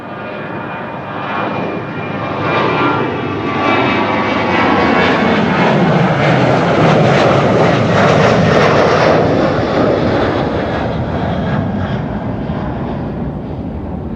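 An Emirates Airbus A380 jet at Amsterdam Schiphol Airport roars past, a loud broadband engine rush that swells, peaks and slowly recedes with a sweeping tonal shift.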